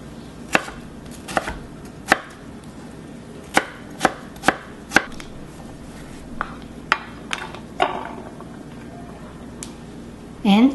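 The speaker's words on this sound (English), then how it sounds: "And potato. Same size, cut in 2 small pieces." A knife chops potato into small pieces on a cutting board for jjajangmyeon, with sharp, irregularly spaced strikes close by and a faint voice in the background.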